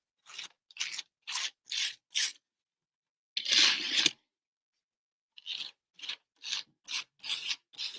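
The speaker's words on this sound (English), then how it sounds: "I'm going to take my plastic card and I'm going to get some on here. So you can hear the grit." A plastic card scrapes gritty paste across holiday decor in a series of short, rasping strokes, five quick ones, a longer pause and one drawn-out scrape, then six more brief passes, close and clear with no voices.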